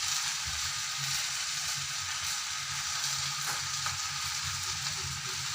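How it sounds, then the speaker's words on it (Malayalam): Onions roast in a pan as grated coconut goes in, a steady close sizzle with scraping and stirring underneath, no one speaking. "ഇനി നമുക്ക് ഇതിലേക്ക് കുറച്ച് തേങ്ങ ഇട്ട് കൊടുക്കാം"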